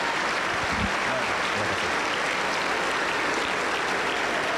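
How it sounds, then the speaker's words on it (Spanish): A Pentecostal church congregation in Huancayo claps in steady, dense applause filling the sanctuary, with faint voices mingling beneath the continuous clapping. "Aplauso para el Señor Jesús."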